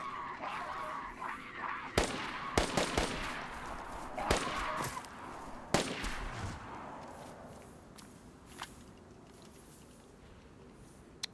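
Gunfire in the survival video game DayZ: a quick burst of sharp cracking shots, several in close succession around two to six seconds, then a trailing echo and a quiet ambient bed with one faint later crack.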